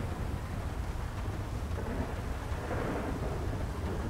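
Rolling thunder over a steady roar of heavy rain during a storm in the video game GTA 5, continuous and loud with no voices.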